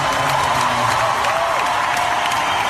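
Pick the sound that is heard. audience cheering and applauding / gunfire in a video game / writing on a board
audience cheering and applauding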